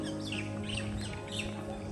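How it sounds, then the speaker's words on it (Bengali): Birds, doves among them, call around a quiet village. The chirps and tweets are faint and distant, heard over a low, steady background hum. "আপনারা কি শুনতে পাচ্ছেন যে এখানে পাখি ডাকছে কত সুন্দর করে?"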